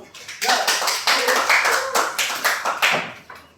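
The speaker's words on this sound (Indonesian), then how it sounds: "Tepuk tangan dulu buat adik Dominic." Audience applause at an Indonesian talk for young people, a burst of clapping hands with an uneven patter that holds steady for a few seconds at moderate loudness.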